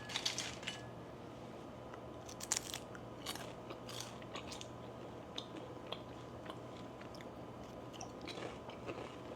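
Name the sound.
crunching on homemade almond pulp seaweed crackers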